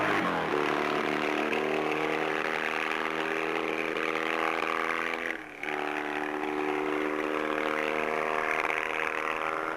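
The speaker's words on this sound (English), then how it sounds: "Triton misfiring." A classic Triton racing motorcycle runs with a misfiring engine, a loud buzzing engine note that briefly drops out and stutters mid-way before picking up again.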